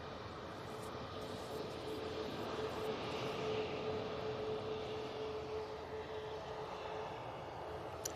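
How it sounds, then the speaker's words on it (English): A Virgin Atlantic airliner passes the control tower at Manchester Airport, heard as a steady, broad jet-engine roar sustained at moderate distance with no talking. "It's Virgin Atlantic go past the tower."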